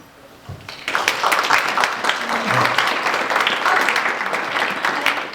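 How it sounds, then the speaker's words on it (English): Applause from a madrigal dinner audience greeting the court of Eclipsia, a steady wash of many hands clapping that starts after a brief quiet moment and holds fairly loud throughout. "let us applaud the court of Eclipsia"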